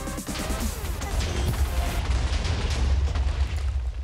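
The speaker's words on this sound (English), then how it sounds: "I have a dubstep gun now." A dubstep gun fires in a Minecraft modpack game, a loud continuous blast of distorted booming bass and crunchy noise that fills the whole stretch.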